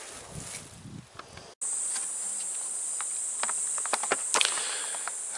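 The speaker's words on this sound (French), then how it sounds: "Les guêpes." Insects buzz and chirr outdoors in a continuous high, steady drone that starts abruptly after a brief muffled stretch, with scattered sharp ticks and a closer buzz passing near the end.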